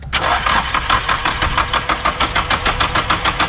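A Nissan SR20DET engine cranks over on the starter during a compression test, loud and close, with a steady rhythmic pulse of compression strokes across the whole span.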